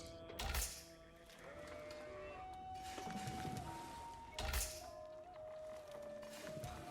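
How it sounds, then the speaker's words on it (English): Sheep bleat in the real-time strategy game Age of Empires IV, two brief calls standing out over a steady bed of game ambience and tonal effects, with no talking. "Trying to get as many sheep as possible."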